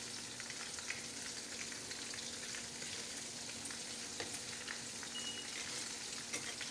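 Shrimp frying in hot oil for fried shrimp, giving a steady, even sizzle that holds at the same level throughout with faint crackles and no voices.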